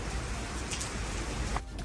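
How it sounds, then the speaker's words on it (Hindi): Heavy rain pours down outdoors, a dense, loud, continuous hiss that fills the whole moment with no letup. "बारिश बड़ी हो रही है भाई।"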